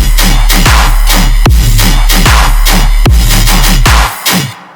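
Electronic bass drop with heavy sub-bass pulses, a steady beat and bright synth layers, played loud and full-range without a telephone-style filter, ending in a sudden cutoff near the end.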